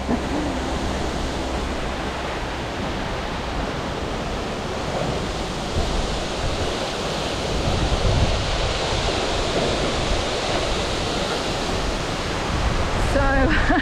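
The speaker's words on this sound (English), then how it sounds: "there's a pretty lot of water in the waterfall" A waterfall in heavy flow with thick spray roars as a dense, steady wash of noise, loud and close, swelling slightly toward the end.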